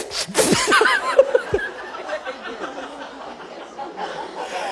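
A voice imitates a dog sneezing, with a few quick nasal bursts early on that give way to snickering laughter and soft breathy sounds.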